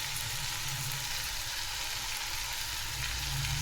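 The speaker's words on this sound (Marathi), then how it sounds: "आता मेथीची भाजी पालक आणि चिल्लरची भाजी सर्व भाज्या टाकायच्या आहे आतच" Fenugreek leaves, spinach and other leafy greens go into a hot frying pan for a Bhogi mixed-vegetable dish, giving a steady, even sizzle that holds at a moderate level throughout, with no voices.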